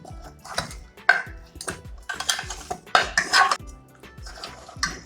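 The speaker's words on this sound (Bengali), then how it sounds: "এবার সব কিছু ভালো করে মিশিয়ে নিতে হবে।" Potatoes tossed with oil and spices in a bowl produce irregular clinks and scrapes of a spoon against the bowl, close and fairly loud, in uneven bursts.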